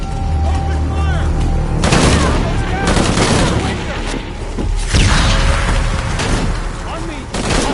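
Gunfire in Shadow of the Tomb Raider: loud, dense bursts of automatic shots and booms in repeated volleys, with combat shouts mixed in.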